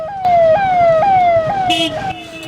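VIP vehicles pass through the dense Maha Kumbh 2025 crowd in Prayagraj, India, a loud close siren wailing in repeated falling sweeps over crowd and traffic murmur.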